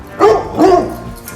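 Lily, a dog at a car shop, gives two short, loud barks close by, with no talk.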